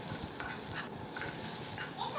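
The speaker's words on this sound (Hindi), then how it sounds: "तो इन्हें हमें सिर्फ थोड़ा सा रोस्ट करना है, उसका जो कच्चापन है वो उसका निकालना है हमें" Raw onions roasting in a pan for masala prawns give a steady sizzle, with occasional soft scrapes from stirring and no talking over it.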